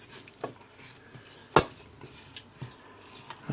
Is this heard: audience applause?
no